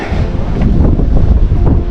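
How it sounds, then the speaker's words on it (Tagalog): Strong gusting wind buffets the microphone by the sea on a fishing outing, a loud continuous low roar with no voices. "Medyo mahangin po ngayon dahil mag-winter na."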